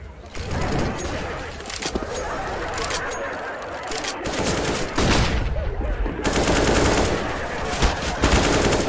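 Rapid bursts of automatic gunfire and single shots in a professional Counter-Strike: Global Offensive match, GODSENT vs ATK in an ESEA upper final, loud and dense across the whole stretch, with a commentator talking over the action.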